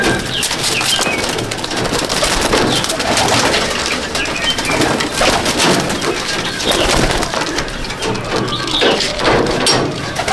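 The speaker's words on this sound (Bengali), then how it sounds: "এই যে পায়রা।" Golden pigeons coo continuously in a loft, a steady overlapping chorus of soft rolling calls with occasional wing flutters, close and fairly loud with no talking.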